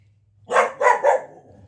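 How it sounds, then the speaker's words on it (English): A pet dog barks three times in quick succession nearby, short loud woofs standing alone against a quiet room while someone works on a messy paper mache project. "That was my dog in the background."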